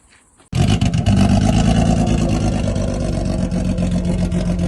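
A car engine fires up for the first time after a swap to a 1.8-litre M43 engine: a brief quiet moment, then a sudden loud start settling into a steady, close idle rumble with no talking.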